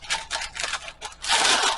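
Parchment paper being snipped for a brownie pan, a few quick close cuts followed by a longer rustling scrape as the sheet is handled.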